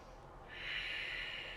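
A soft, close breath is drawn in and let out during a restorative yoga pose, a single quiet airy exhale over low background hum.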